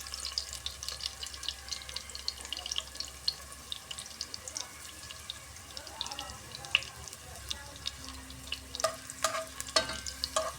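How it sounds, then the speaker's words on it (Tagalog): Garlic browning in a pan for chicken adobo gives a soft, steady sizzle with faint crackles and the occasional scrape of stirring, fairly quiet and continuous throughout. "Tayo muna natin mag-brown yung bawang."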